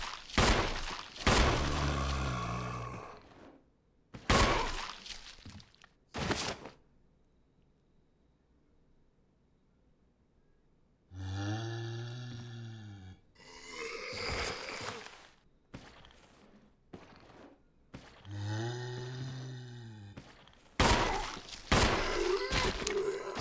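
Loud gunshots fired at a zombie in the Resident Evil game, sharp separate bangs in uneven clusters with quiet gaps between them and a few resonant ringing hits, heard with no voices.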